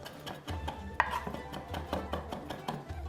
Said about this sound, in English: And you can chop it more for the salad.